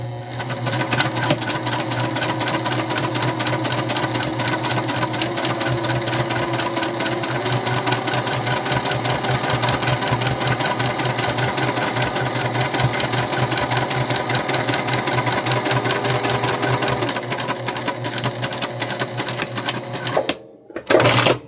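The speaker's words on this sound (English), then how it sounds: "we'll just continue sewing down these lines until we have completely finished" A sewing machine quilting straight lines on a holiday make-up bag, running steadily and close with a fast, even mechanical chatter that stops near the end.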